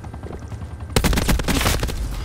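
Rapid automatic gunfire from a gun in Call of Duty Black Ops 4 erupts suddenly after a quieter stretch of game sound, a loud, close burst of dense, rattling shots continuing without pause.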